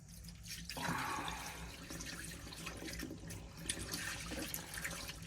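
Fluid bubbling and gurgling through an Alde caravan heating system as it is bled, a steady close watery trickle with irregular drips and splashes throughout.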